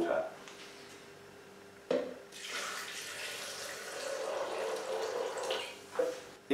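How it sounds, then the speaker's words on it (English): Cold tap water pouring steadily into a blender jar while making almond milk, a continuous mid-level splashing rush of several seconds between brief clunks, fairly close. "make it up to about the 3 cups mark with fresh cold water."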